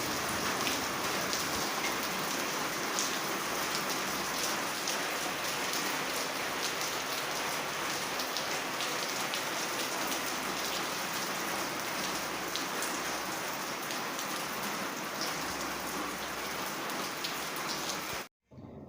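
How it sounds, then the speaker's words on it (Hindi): Heavy, steady rain pours continuously outside in Islamabad with a dense hiss, loud and close, until it cuts off abruptly near the end. "और बाहर बारिश बहुत ज़्यादा तेज़ हो गई है।"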